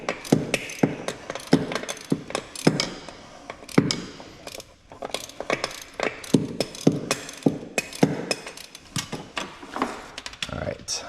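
Ratchet with an extension loosening a transmission bolt on a Nissan Z31, a steady run of close, sharp clicking bursts in quick repeated strokes, with brief pauses between.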